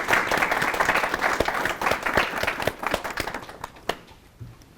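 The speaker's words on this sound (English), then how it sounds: "So give a round of applause for our panel." An audience at an art talk claps for the panel, a dense close burst of applause that thins into scattered individual claps and fades out over a few seconds.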